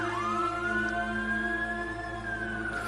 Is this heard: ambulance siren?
yes